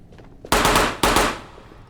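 A Mat 49 submachine gun firing in the game Ghosts of Tabor: two loud, close, rapid bursts half a second apart, each decaying quickly, with no talk.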